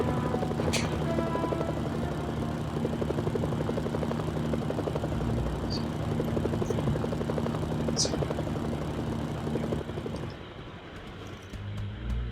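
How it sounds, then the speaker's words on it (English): A helicopter arrives in the video game Mercenaries: Playground of Destruction, its steady thudding rotor and engine drone holding close and loud before dropping away near the end. "I need to order a new helicopter."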